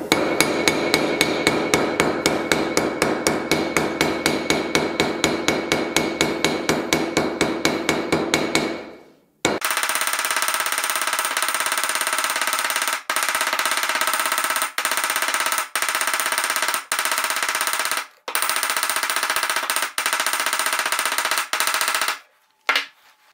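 Hammering on a zinc gutter downpipe outlet while bending it: a fast, even run of sharp metallic taps, then a pause, then a steadier ringing stretch broken by a few brief gaps, with no talk.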